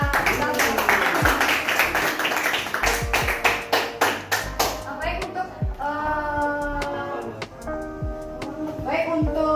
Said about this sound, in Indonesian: Baik, tepuk tangan untuk Rara.